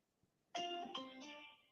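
A phone rings on the other end of a call: a clear electronic tone pattern starts after a short silence and holds for about a second, with a brief tone returning at the end.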